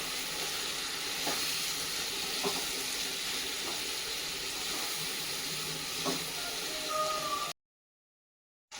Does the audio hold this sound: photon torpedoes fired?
no